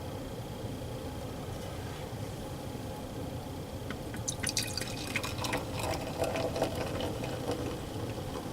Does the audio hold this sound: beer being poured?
yes